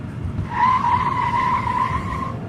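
A car speeds away with a sustained, loud tire skid squealing for about two seconds, set on a deserted highway, with no voices present.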